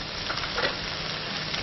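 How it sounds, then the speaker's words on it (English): Spice paste fries and is stirred around a pan, giving a dense continuous sizzle with soft scraping pulses from the spoon, close and even. "the spices that are sticking to the pan and keep the paste moving around"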